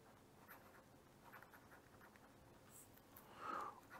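Chalk or marker writing on a lecture board during an electrical engineering class: faint, intermittent scratchy strokes close by in a quiet room, with a short louder stroke near the end.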